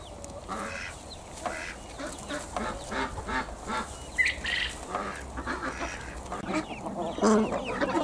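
Chickens and ducks cluck and quack together at close range in a backyard flock, a busy overlapping jumble of calls and squawks that carries on throughout without talking.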